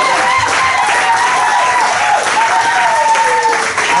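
A church congregation at a Sunday service applauds and cheers for Jesus, with sustained clapping under a raised voice that carries a wavering, drawn-out call across the whole stretch.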